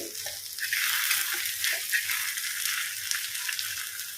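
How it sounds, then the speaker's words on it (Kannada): Fish coated in rice flour fries in oil in a pan, giving a steady close sizzle and crackle with occasional low stirring or shifting bumps. "ಟರ್ನ್ ಮಾಡಿ ಹಾಕಿ ಒಂದು ಸ್ಪೂನ್ ಎಣ್ಣೆ ಮತ್ತು ಹಾಕಿ ಈಗ ಫ್ರೈ ಮಾಡಿದ್ದೇನೆ ನೋಡಿ"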